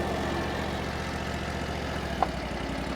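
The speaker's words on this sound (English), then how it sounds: "you won't be able to hear me over the engine noise" A Chinese-made skid steer engine runs steadily at a low, even idle-like drone throughout, close and continuous, with one brief sharp tick near the end.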